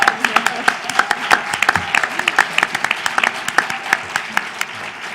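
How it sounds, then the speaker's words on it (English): A symposium audience applauds a panel organizer, with scattered individual claps ringing out sharply over a moderate, uneven round of clapping in a hall. "So I really want to give her a round of applause"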